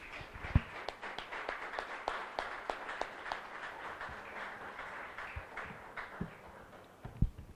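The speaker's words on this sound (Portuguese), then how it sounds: "Vamos dar uma salva de palmas ao Senhor nosso Deus." A church congregation claps at a Sunday worship service, scattered and moderately distant, with uneven individual claps rather than a full roar, fading and thinning toward the end.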